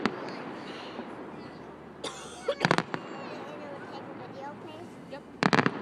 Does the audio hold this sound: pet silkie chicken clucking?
no